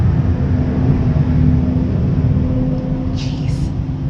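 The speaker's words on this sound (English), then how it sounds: "Oh my gosh, you hear the truck?" A truck outside a window rumbles past, a heavy low engine drone that is loud and steady and then eases slightly toward the end, heard from indoors with no talk.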